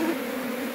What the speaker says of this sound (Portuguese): Vou tirar as abelhas aqui para não esmagar as abelhas.